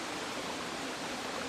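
Steady, dense rush of a stream flowing in the Vercors mountains, close and continuous with no voices.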